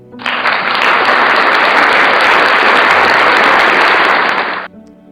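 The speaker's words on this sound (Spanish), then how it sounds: "creo que puedo sonar unos aplausos" Recorded applause played back from a small device, a loud, dense burst of crowd clapping that starts abruptly, holds evenly for over four seconds and then cuts off sharply.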